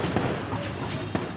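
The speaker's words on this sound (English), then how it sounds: "A volley of gunfire rings out in Port-au-Prince." Gunfire in Port-au-Prince, Haiti, during days of fighting between rival gangs: a couple of sharp cracks stand out over a dense, noisy background.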